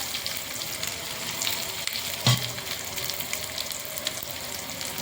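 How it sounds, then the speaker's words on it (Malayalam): Onions sizzle and fry steadily in a hot pan while a goat leg soup is being made, with a brief louder stir or clatter partway through and a constant crackling hiss throughout, no talking. "ഇനി നമുക്കിതിലേക്ക് ഉള്ളി ഇട്ട് കൊടുക്കാം"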